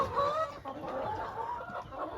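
A hen clucks softly and repeatedly, a low, murmuring series of calls heard fairly close in a quiet space.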